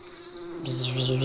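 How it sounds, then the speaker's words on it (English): Bees drone with a steady buzz that swells louder partway through, into a thick, wavering hum of many insects close by. "Bees!"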